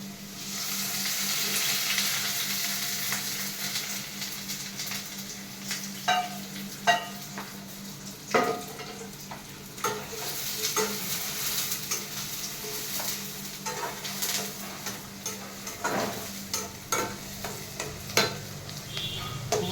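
Onions fry in hot oil with bay leaf and cardamom, a continuous soft sizzle broken by repeated scrapes and clicks of a spatula stirring the pan.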